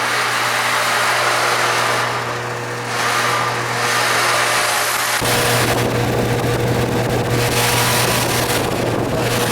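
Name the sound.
old Goodman AC unit fan motor running noisily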